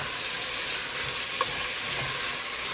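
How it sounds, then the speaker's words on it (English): Shrimp being stir-fried in a pan for a shrimp beetroot soup, a steady broadband sizzle with faint stirring scrapes and one small pop, no talking. "We're just stir frying it, make it saute a little bit."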